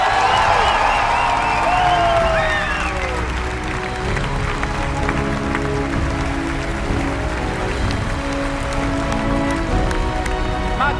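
An audience claps and cheers at the Bethesda E3 2015 press conference after the Fallout 4 presentation. The sustained applause starts loud and settles into a steady wash, with a few voices and whoops over it.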